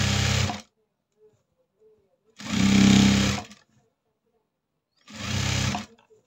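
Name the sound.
sewing machine stitching a blouse neckline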